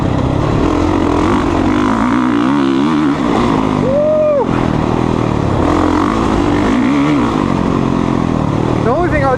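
Honda CRF450R dirt bike engine revving hard while being ridden, a loud continuous motor whose pitch rises and falls with throttle blips, close up, with a rider talking over it.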